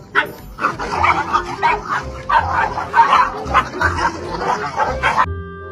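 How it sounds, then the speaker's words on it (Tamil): Several dogs behind a gate bark and yip in quick, overlapping bursts, loud and close, with some whimpering between barks. "நாய்ங்க எப்பவும் கேட்டுக்கு இந்த பக்கம் தான் அதுங்க வீரத்தை காட்டும்"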